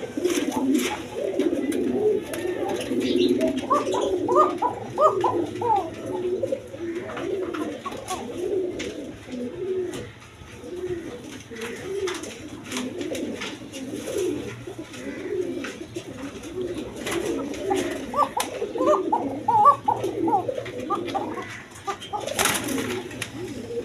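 Pigeons offered for sale coo in repeated soft, throaty bursts, several birds overlapping at close range with a steady low hum beneath.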